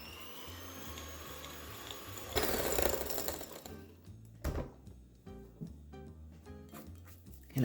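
An electric hand mixer whirs in a bowl of butter blended with white and light brown sweeteners for low-carb double chocolate chip cookie dough, a steady mechanical hum with a louder burst and then choppier beating; quiet overall.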